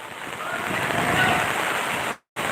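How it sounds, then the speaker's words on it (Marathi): Water pours from one street drain into the neighbouring drain in Kundalwadi town, a steady broad rushing wash heard close and fairly loud, cutting off abruptly near the end. "ह्या नालीचं पाणी बाजूच्या नालीत जात आहे"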